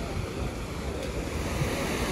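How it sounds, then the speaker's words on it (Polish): A river in Pakistan rushes past with a steady, broad roar of flowing water mixed with wind noise, constant and fairly loud, with no talking. "to tak sobie przepływa rzeka, to jest normalna akcja"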